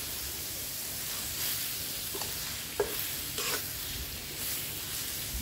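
Pork belly fries in a pan for Thai stir-fried basil pork with dried chili, a continuous hissing sizzle broken by a few sharp scrapes and stirs close by.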